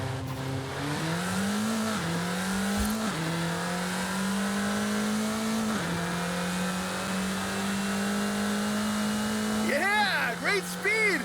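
A car engine in Forza Horizon 5 revs continuously, climbing and dropping in pitch through gear shifts, with a brief tire squeal near the end and speech over it.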